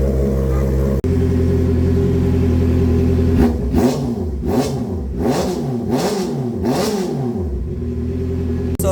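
A brand-new motorcycle with a full exhaust idles steadily, then is revved to around 4,000 to 6,000 RPM in five or six quick, loud, rising-and-falling blips close by before settling back to idle.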